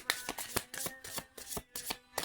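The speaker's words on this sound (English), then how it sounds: "So I don't mind shuffling several times." A deck of cards is shuffled several times, giving quick crisp riffles and taps in an irregular rhythm, close and fairly quiet, with no voices.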